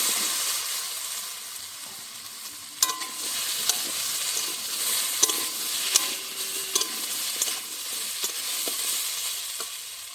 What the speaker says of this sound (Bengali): জিরে ফুটে গেছে, আমি ওলগুলি দিয়ে দিচ্ছি